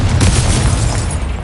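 A Confringo spell in Hogwarts Legacy bursts into a loud, close explosion with a sustained booming rumble that fades slightly toward the end.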